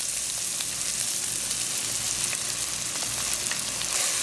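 Tomato and ketchup fry in a pan over low-to-medium heat, giving a steady, even sizzle with faint soft stirring thumps underneath.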